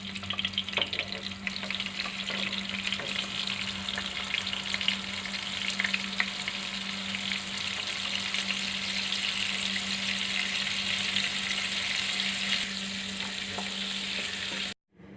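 Soya chunks deep-frying in hot oil in a kadai give a steady, dense sizzle with crackling bursts throughout, close and continuous, over a low constant hum, with no talking.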